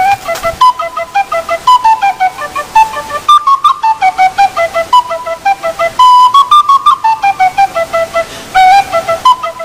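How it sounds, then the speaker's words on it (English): A lively jig, the Swallowtail Jig, on a Clarke's tin whistle, bright tongued notes in a quick bouncing rhythm, played solo and close up. "a jig played on a Clark's whistle called the Swallowtail Jig"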